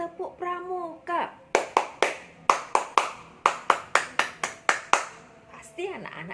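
Children and an adult perform a Pramuka scout clap, a rapid series of about a dozen sharp, evenly spaced hand claps at close range, with a voice speaking before and after.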